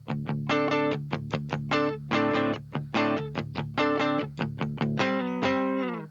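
A clean electric guitar without distortion plays a choppy, rhythmic riff of repeated chords and notes, loud and close, ending on a sustained chord.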